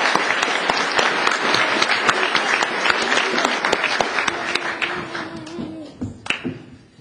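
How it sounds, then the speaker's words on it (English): Congregation applause for children during a church morning service, many hands clapping quickly and steadily, then thinning out and fading toward the end with a few stray claps and some noise. "So let's give these kids a round of applause"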